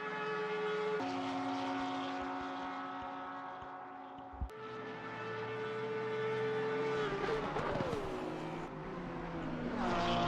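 A Porsche race car in Assetto Corsa Competizione at Paul Ricard howls with a steady, high, tonal engine drone that rises and falls in pitch as it shifts gears, close and continuous with no talking.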